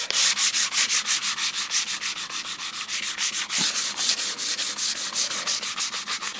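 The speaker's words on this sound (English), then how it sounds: "a little bit of a heavier sanding just where those bubbles are" Steady back-and-forth hand sanding of a milk-painted surface, a rapid rhythmic rasping of even strokes, close and continuous with no talking.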